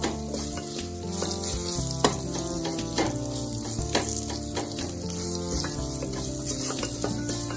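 Curry leaves fry in hot oil for kandi chaaru rasam, giving a steady crackling sizzle with small pops and ticks, close and continuous, with no talking.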